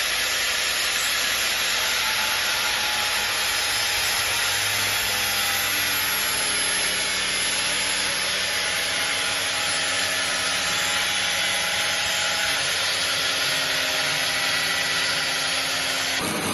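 A 9-inch angle grinder cuts metal for a trailer build, giving a loud, unbroken high hiss and whine. It holds steady for the whole stretch, close and overpowering, with a faint droning note beneath.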